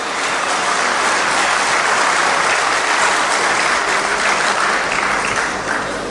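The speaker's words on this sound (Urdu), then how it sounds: "ایک بار ذرا تالیاں بجا کے مجھے اجازت دیجیے گا" Audience applause at a mushaira Urdu poetry gathering, steady and dense clapping filling the whole stretch, loud and close with no pause.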